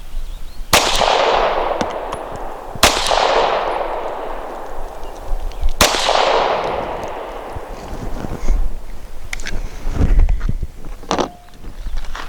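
Three sharp, loud pistol shots from a Sig P365 firing Winchester Super Clean 90 grain ammunition outdoors, spaced a couple of seconds apart, each followed by a long decaying echo, with lighter clatter and movement afterward.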